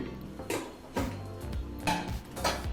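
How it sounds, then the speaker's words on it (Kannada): Several metallic clanks and scrapes of a pressure cooker lid being fitted and pressed onto the pot, close up, with short pauses between them. "ಕುಕ್ಕರ್ ಲಿಡ್ಡನ್ನು ಮುಚ್ಚಿ"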